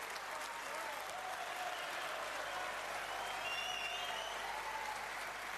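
Sustained applause from a snooker audience at the 2004 Masters, a steady wash of clapping throughout, with a commentator's voice faintly underneath.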